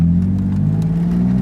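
A BMW E36 engine on its first test drive after fueling fixes, a loud, steady low drone from inside the car with a smooth mid-range hum and no talking.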